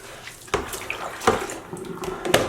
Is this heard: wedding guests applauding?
no